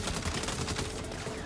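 Rapid overlapping gunshots from a Saints Row firefight against police, loud close machine-gun bursts rattling without pause.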